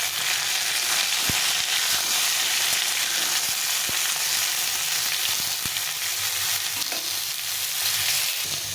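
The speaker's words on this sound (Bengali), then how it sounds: "এই সবটা একটু ভালো করে ভেজে নিতে হবে।" Steady broadband sizzle of vegetables, including raw plantain, frying in a pan for shukto, with occasional soft knocks of a spatula stirring, continuous and close throughout.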